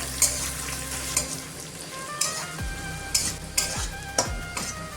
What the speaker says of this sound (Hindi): ये प्याज भी ऐड कर देंगे। दो मिनट में फ्राई कर लेंगे।